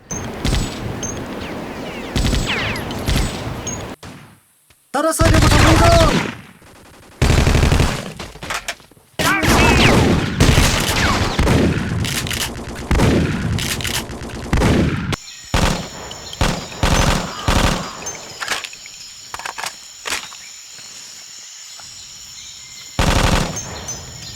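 Weapons fire in the wartime shooter Vietcong: Fist Alpha, with loud bursts of automatic gunfire and single shots cutting in and out across the clip, some sustained rattles and sharp isolated cracks between brief pauses.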